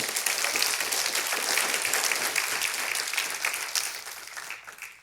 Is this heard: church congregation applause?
yes